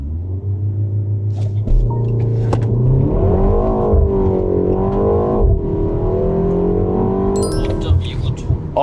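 A Hyundai Avante N launches hard under launch control, its turbocharged engine roaring up through the revs with a gear change and rising pitch, loud from inside the car, with a brief voice near the end.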